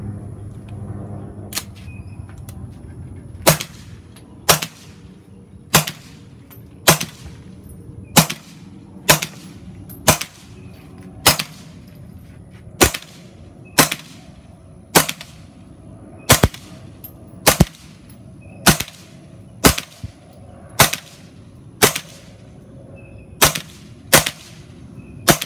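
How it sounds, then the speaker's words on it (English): A suppressed 9mm AR carbine fires Federal 147 grain full metal jacket subsonic rounds: about twenty sharp, evenly spaced reports, each loud and close and alone, with no talk between them. "we're going to put several rounds through here"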